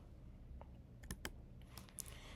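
Soft keystrokes on a computer keyboard enter a number into a client program of a multi-client movie library system; a few faint, scattered clicks sound close but quiet over a low background hum, with no talking.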